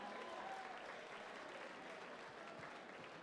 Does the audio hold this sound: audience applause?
yes